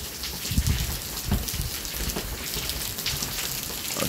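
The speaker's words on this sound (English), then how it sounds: "It's officially rained out, cloudy." Continuous rain falls, a broad steady hiss with a few low thuds and drips near the start.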